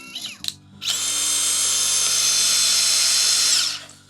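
A power drill with a DeWALT FlexTorq impact driver bit drives a screw, whirring steadily for about three seconds, a high sustained whine after a brief trigger blip, then winds down; close and loud.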